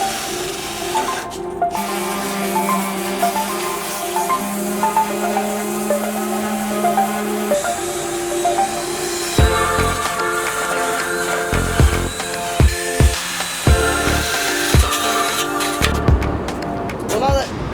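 The metal body of an old Dodge truck is sanded close by, with a steady buzzing motor whine. Toward the end the whine turns into an uneven run of knocks and scrapes as the tool shifts across the panel.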